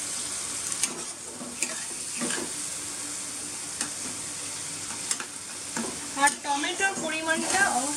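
A spice paste of chili powder and ground spices fries in oil while being stirred, a continuous near sizzle broken by intermittent scrapes and clinks of the utensil, a little busier toward the end.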